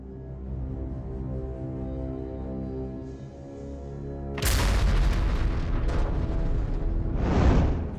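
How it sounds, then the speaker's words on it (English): A steady low rumble breaks into a huge, sudden blast as munitions detonate simultaneously in a war zone, followed by crackling bursts and a second roaring surge of explosions close by. "triggering a powerful simultaneous detonation of the munitions"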